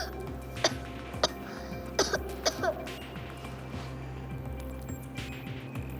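Several short coughs or throat-clearing bursts at irregular intervals, fairly close, over a steady low background hum.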